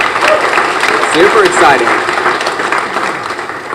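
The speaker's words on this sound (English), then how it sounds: "Let's give another big round of applause." Audience applause at a Marshall University event, steady and fairly loud clapping with a person speaking briefly over it and some excited voices in the crowd.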